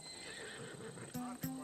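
In Assassin's Creed Odyssey a Macedonian battle-bred horse snorts and gives short whinnies amid clopping hooves and a man's speech, close and moderately loud, ending with two sharp bursts.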